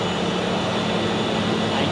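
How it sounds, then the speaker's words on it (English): An Airbus A380 taxiing toward runway 28 at Zurich airport, a constant broadband jet engine roar with a steady low hum, heard from an observation deck without talk. "Airbus A380 is taxiing."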